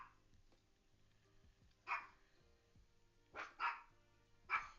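A dog barks four times in short bursts, moderately loud, over a quiet background with soft music.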